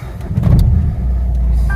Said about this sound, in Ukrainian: завели автомобіль.